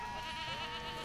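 A Minecraft goat bleats in a game world, a short wavering nasal cry heard alone at moderate volume.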